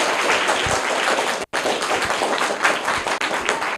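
A group applauds a young winner at a children's knowledge competition prize-giving, brisk close clapping from a modest crowd, briefly cut off for an instant before carrying on steadily to the end.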